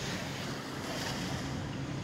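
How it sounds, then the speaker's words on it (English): Waves break on the beach at JBR in Dubai, a steady loud wash of surf mixed with wind rumble on the microphone, with no speech. "Waves crashing on the beach."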